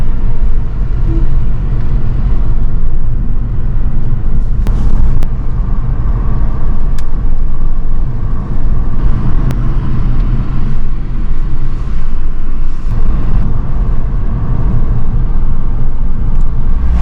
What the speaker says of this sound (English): Car driving just behind us